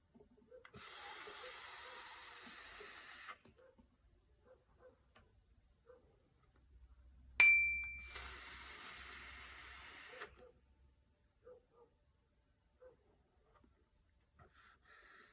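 A clone vape atomizer fired at 60 watts gives two separate bursts of steady vapor hiss, each lasting about two to three seconds, with a sharp click between them and quiet pauses around them.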